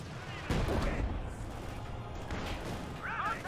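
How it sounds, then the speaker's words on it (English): An artillery barrage and mortar hits in Company of Heroes 2: sharp distant impacts and rumbling blasts over a steady battle din, with a voice talking throughout. "trying to engage those shock troops, and that's this barrage and the mortar hits"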